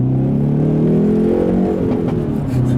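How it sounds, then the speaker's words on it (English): A 2019 Hyundai Veloster N's four-cylinder engine revs loud and close through its exhaust, the pitch climbing then settling in a brief burst of throttle. "it's just a really sweet sound of the 4-cylinder"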